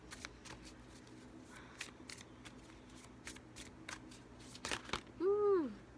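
Tarot cards shuffled by hand in quick, crisp riffling bursts, close and quiet, with a soft voiced sound near the end.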